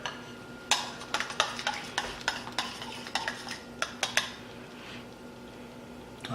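Cooked chicken rice stirred in a pot, a spoon scraping and clinking against the sides in a quick run of sharp, close taps and scrapes that trail off into quiet.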